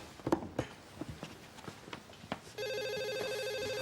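A telephone begins ringing partway through, a steady electronic ring tone that follows scattered footsteps and small knocks in a quiet room.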